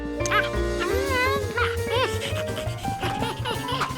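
A cartoon dog barks and yips in short excited bursts, with whining, sliding tones and music around it, and a speaking voice mixed in.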